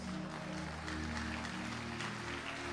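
Church congregation applauding for a mother, a steady wash of many hands clapping at moderate distance, continuous and even throughout with a low hum underneath.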